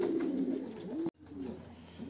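Young racing pigeons coo softly nearby, a low throaty warble that breaks off briefly and then resumes, faint and calm with no voices.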